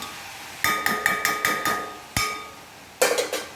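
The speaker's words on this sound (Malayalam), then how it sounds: "ചീര നന്നായിട്ടൊന്ന് ഇളക്കി ഒന്ന് നിരത്തി ഇടാം" Spinach thoran is stirred in a cast iron pan, giving a run of sharp metallic clanks and taps with ringing decay, then a single strike and a short final cluster, with no talk.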